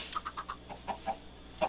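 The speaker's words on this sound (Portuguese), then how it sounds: "As galinhas estão aqui dentro." Chickens in the video game Minecraft cluck in a run of short, soft calls, moderately close and fairly quiet, with no talking over them.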